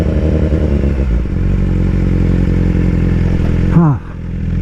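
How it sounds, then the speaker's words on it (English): BMW S1000RR motorcycle engine droning steadily up close, then a quick throttle blip on a gear change that rises sharply and drops away. "Clashless shifting. That's how you do. You blip it."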